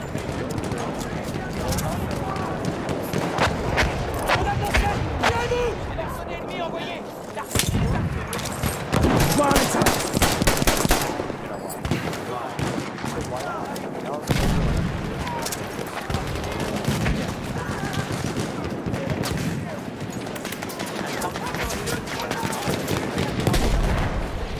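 Artillery and gunfire fill a Battlefield 1 battle scene: dense, continuous volleys of rifle and machine-gun shots with heavy booming blasts, loud and close, under occasional voices.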